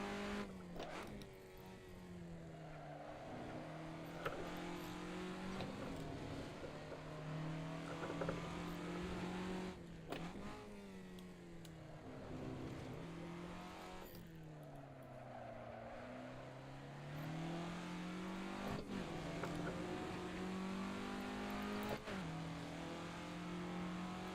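Engine of a 1967 Formula Ford race car in the Assetto Corsa racing game, droning steadily with rising and falling revs and repeated gear shifts throughout, loud and continuous with no talking.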